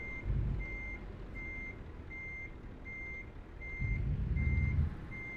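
Reversing truck in Euro Truck Simulator 2 gives out a steady run of evenly spaced high electronic beeps, about eight pulses, over a low rumbling engine that swells twice.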